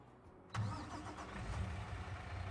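A truck engine in the Farming Simulator video game cranks and catches abruptly, then settles into a steady, close mid-pitched idle rumble with no talking.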